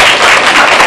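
Audience applause at a student debate contest, a brief, loud, dense patter of many hands clapping at once.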